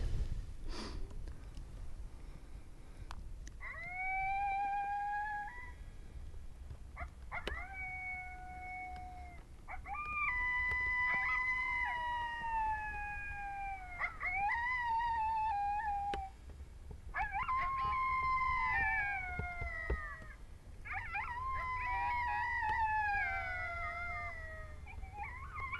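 Coyote pup serenade played from an electronic predator call while hunting: a series of high yips, whines and wavering howls in bursts over a quiet outdoor background.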